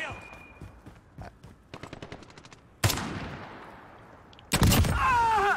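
MG34 machine gun fire in a Call of Duty match: rapid, close bursts of sharp shots, then two louder blasts with a decaying tail and a final crackling burst.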